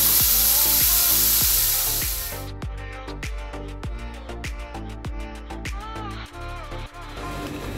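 Vegetables frying in butter in a pan for a homemade pizza: a loud, steady hiss at first, then settling into a crackling sizzle with a rapid run of sharp pops and spits, close by and with no one talking.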